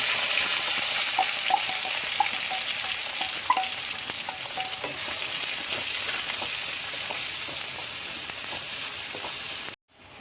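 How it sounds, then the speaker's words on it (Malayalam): Curry leaves and onion sizzle steadily in hot oil in a pan for a chicken cutlet filling, a loud continuous frying hiss with small pops and crackles throughout, alone, cutting off abruptly at the end. "കറിവേപ്പില ഇടാം ഇട്ട് എന്നിട്ട് സബോള ഇടാം"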